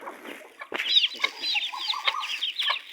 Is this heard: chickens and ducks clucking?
yes